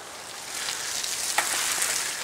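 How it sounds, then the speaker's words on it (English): A bike ridden fast through a muddy puddle on a wooded trail throws up a steady, rushing watery hiss and spray that swells slightly and holds for a couple of seconds, with no talking. "You just went through there fast trying to splash me."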